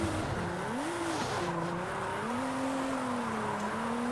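A Nissan 350Z drifts in the racing game Forza Horizon 5, its engine droning steadily while a long wavering tire squeal rises and falls throughout, loud and continuous, with no talking.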